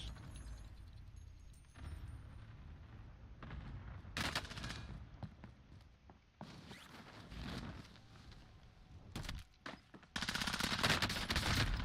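Submachine gun fire in a video game, with several rapid bursts spread through the stretch amid clattering movement and handling noises, ending in a dense, loud volley.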